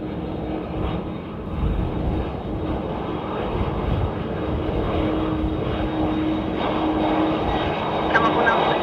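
A Delta airliner lands on runway 28 at Dublin Airport on a windy morning, its engines a steady, broad roar that swells slightly toward the end, with people talking over it.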